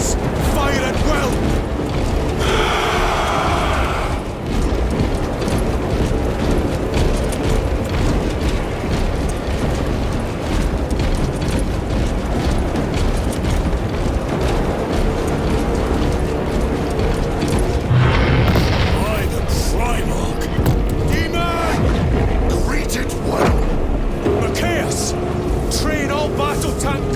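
A battle scene from Warhammer 40,000: Space Marine 2 fills the space with a dense, continuous roar of gunfire, booms and mechanical clatter, loud throughout, with voices shouting over it.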